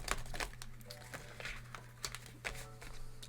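Cards being shuffled with soft crinkling and papery shuffling and brief riffling bursts, close and fairly quiet, over a low steady hum.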